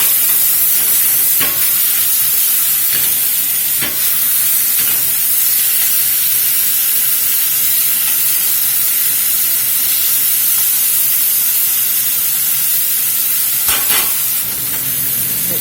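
Steak fajitas sizzling in a hot pan as they are tossed, a loud, steady frying hiss with a few sharp clicks and scrapes, and no talking.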